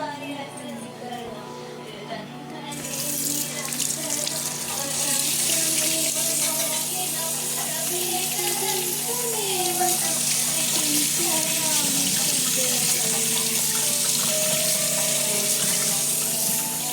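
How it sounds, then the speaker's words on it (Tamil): Hands being washed and rubbed under a running kitchen tap, with water pouring steadily and growing louder after a few seconds while a voice talks over it. "நல்லா கழுவு கையை. ரப் பண்ணி கழுவு. ரப் பண்ணி கழுவு."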